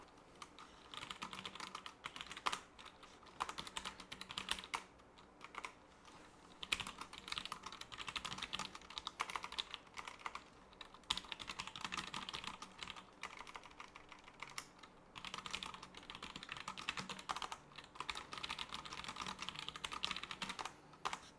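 Fast, uneven typing on a gaming computer keyboard connected through a USB extender, a close run of clicky keystrokes in bursts with short pauses, going on the whole time with no talking.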